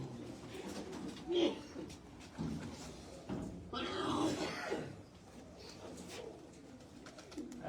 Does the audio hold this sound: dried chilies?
no